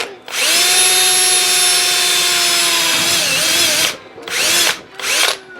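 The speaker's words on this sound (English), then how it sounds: "Now what I'm going to do is drill a few holes in that bar" A loud power drill whines steadily for several seconds, pitch dipping as it bites into a metal grounding bar, followed by two short bursts of drilling.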